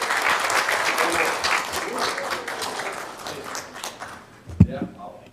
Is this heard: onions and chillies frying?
no